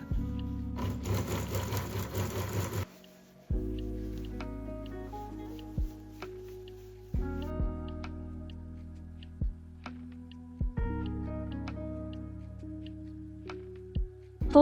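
A sewing machine stitches a cuff, ruffle and sleeve together for a blouse, opening with a fast whirring run, then falling into quieter stretches broken by regular soft mechanical clunks, close by, with no talk.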